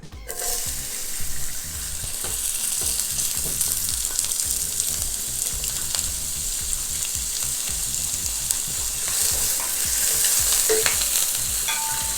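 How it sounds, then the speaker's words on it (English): Onions sauté in oil in a pan as a steady, fairly loud frying sizzle, with the scrape and clatter of stirring running through it and no talking. "we are gonna add some oil to our pan, not too much, but just enough to saute our onions"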